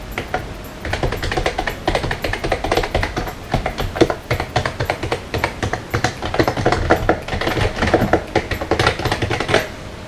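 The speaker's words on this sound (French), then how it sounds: "on va écouter le bruit que fait ce clavier" Rapid, continuous clacking of Logitech G213 gaming keyboard keys, close and fairly loud, with uneven bursts of typing and brief pauses, no talking.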